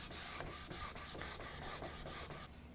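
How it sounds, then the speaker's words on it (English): A hard, rigid-padded sanding block rubs across the wood of a scratch-built figure-8 electric guitar body, taking off glue in about ten steady back-and-forth strokes, close and moderately loud with no talking. "I'm just going to sand till I see that glue disappear."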